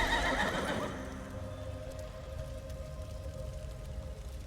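The Psijic Horse Exemplar mount from Elder Scrolls Online gives a loud neigh at the start, then sinks into a quieter fading whinny and soft ambient rumble.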